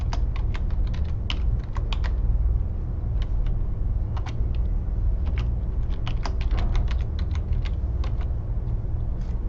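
Rapid, uneven keystrokes on a computer keyboard come in bursts with short pauses, clicking steadily over a low background rumble.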